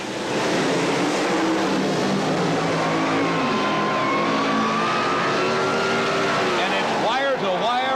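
Pro Comp Eliminator drag racing cars at the 1977 NHRA Springnationals roar loudly and continuously, with an announcer talking over the engines as the cars stage and launch.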